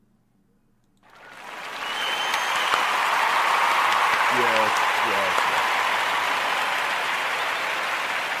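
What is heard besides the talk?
round of applause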